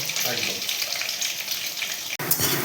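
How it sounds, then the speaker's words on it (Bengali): Potatoes fry in hot oil with a close, continuous crackling sizzle that dips briefly near the end. "এই আলুগুলোকে লাল লাল করে ভেজে নেবো"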